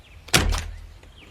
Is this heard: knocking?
yes